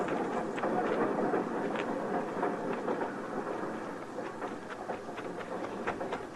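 A train in an old-time radio western drama, a continuous rumbling rush with rhythmic clacking, rattling steadily at moderate loudness with no voices over it.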